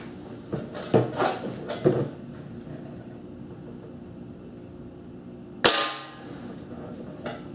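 A Benjamin Titan NP air rifle fires a single sharp, loud crack, preceded by a few soft handling clicks and knocks at close range.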